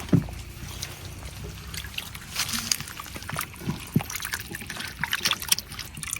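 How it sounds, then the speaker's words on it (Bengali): Goat mutton pieces washed under water for a Bengali curry: splashing, trickling and sloshing with irregular wet knocks and clatters as the meat is rubbed and turned, close and fairly loud. "এখন এই যে মাংসটা একটু ভালো করে ধুয়ে নিতেছি"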